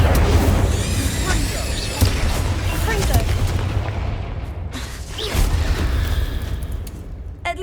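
Incendio fire spell cast in Hogwarts Legacy inside a tomb, a loud whooshing burst of flame with booming thuds and crackling that gradually dies down, followed by a second smaller flare.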